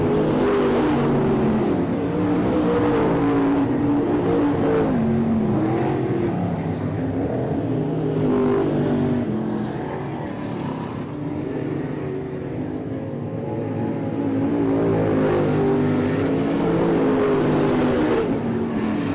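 Late model race cars racing at I-37 Speedway, a loud continuous roar of several engines revving and passing near the final laps, with the sound swelling and easing as cars go by.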